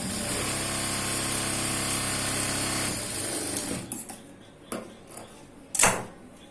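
A sewing machine stitching a blouse runs in a fast steady whir for about three seconds, then stops, leaving a few soft clicks and handling knocks.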